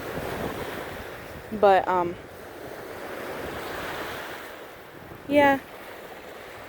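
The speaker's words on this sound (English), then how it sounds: "The waves are being very entertaining." Ocean waves break on a beach in a steady wash of surf mixed with wind noise, while a person speaks briefly twice over the rolling water.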